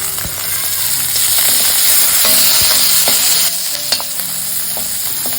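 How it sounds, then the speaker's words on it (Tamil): Onions and curry leaves sauté in a hot pan for potato podimas. A loud, steady sizzle and hiss carries on throughout, close by, with occasional scraping clicks of a stirring spoon. "ஒரு 2 நிமிஷம் அந்த வெங்காயத்தை காந்திராமல் வதக்குங்க"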